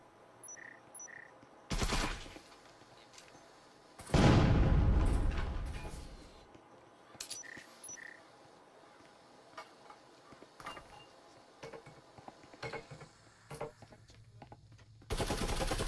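Gunfire in a competitive match of the VR shooter Breachers, with wallbang shots through walls: bursts of sharp shots and a heavier volley amid quieter gaps and small mechanical sounds.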